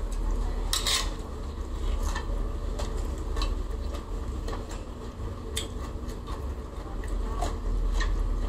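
A utensil scoops papaya salad into a pot of blanched cabbage, with scraping and light clinks of metal against the pot at an uneven pace, close by.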